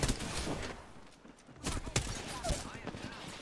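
Gunfire in the Apex Legends video game during a fight where headshots land, with a dense crackling fusillade of shots and impacts mixed under game action and excited voices.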